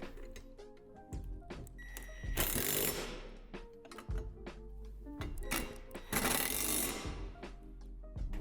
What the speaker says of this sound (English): Before tightening the hardware, make sure that the U-bolt is still facing down in the notch like this.